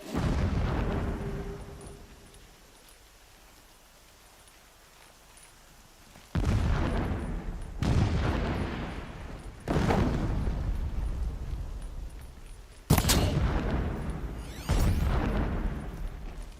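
Gunfire in Horizon Zero Dawn sounds as a series of heavy, booming blasts. Each hit starts hard and sharp and then rumbles away, coming every couple of seconds after a quieter stretch. The blasts are loud and close, with no talking.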